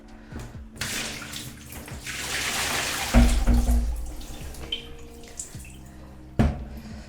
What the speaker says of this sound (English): now let's tip out the contents that's left in our filter itself.